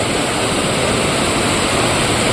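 A rain-swollen village river running full during ongoing rain, heard as a loud, steady broadband rush of water that stays constant throughout, with no voices.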